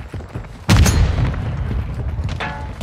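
Grenade explosion in Call of Duty: Modern Warfare 2 multiplayer, a single sudden loud boom followed by a rumbling, decaying tail.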